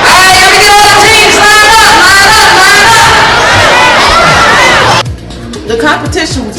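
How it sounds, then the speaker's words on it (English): A loud crowd at a team competition cheers and yells in dense, sustained shouts that cut off abruptly near the end, leaving scattered voices and chatter. "The crowd was into it."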